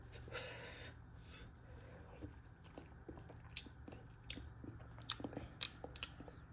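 Someone tasting homemade dahl with a spicy kick and tomato, producing close, soft wet chewing and mouth sounds with small clicks and smacks after an initial breath.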